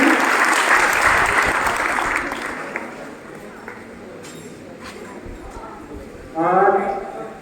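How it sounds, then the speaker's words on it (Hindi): A crowd claps loudly at a students' felicitation ceremony at a coaching centre. The dense applause thins out and fades, and a voice then speaks briefly over a low murmur. "जोरदार ताली से स्वागत करिए।"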